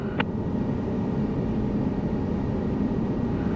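Steady, dense rotor and engine roar of a helicopter in flight in Microsoft Flight Simulator 2024, during a commercial rotorcraft certification lesson, loud and constant throughout with no talk.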